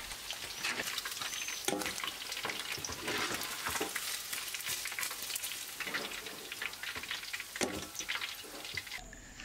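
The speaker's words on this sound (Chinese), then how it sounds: "炸第二次呢，是为了炸出表皮酥脆的口感。" Chicken pieces deep-fry a second time in hot oil, a dense steady sizzle with bubbling crackle and occasional sharper pops, close and continuous throughout.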